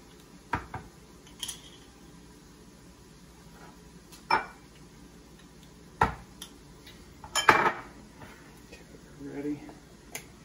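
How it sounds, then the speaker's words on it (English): Metallic clicks and clanks of tomato paste cans being opened in a home kitchen while making spaghetti sauce, a handful of sharp scattered impacts with quiet gaps and some faint talk. "We're opening up our tomato paste cans."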